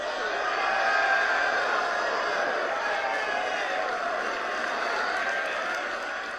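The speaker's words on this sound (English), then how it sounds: "You heard the whole crowd applause after" A large crowd applauds and cheers at an alumni gathering, a continuous roar of clapping and voices sustained for several seconds, heard from a distance and slowly fading at the end.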